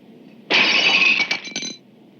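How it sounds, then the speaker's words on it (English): A china piece crashes and shatters in the film Topaz, with a single sharp, bright smash that bursts out of near silence, followed by a brief tinkling scatter of fragments that dies away quickly. "the sound of the crashing of the broken piece is jarring"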